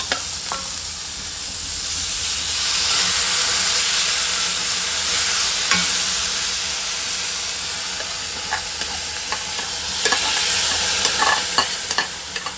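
Samarice frying with sugar in a pan, a loud, close sizzle with scraping stirs and clicks of a spoon against the pan, swelling and easing over several seconds.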